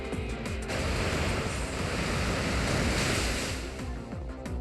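Surf water attack from the Pokémon X video game: a rushing, wave-like wash of surf noise that swells and stays loud for several seconds, with no talking over it.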